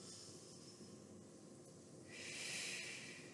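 Someone in a gentle elastic-band fitness session takes a soft breath, the faint airy hiss swelling to a longer, stronger inhale toward the end, close and alone without talk.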